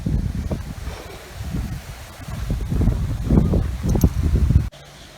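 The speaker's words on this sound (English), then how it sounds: "Really windy now." Gusty wind on a Tybee Island beach buffets the microphone in low, uneven rushing bursts that swell and ease over a few seconds, then cut off abruptly near the end.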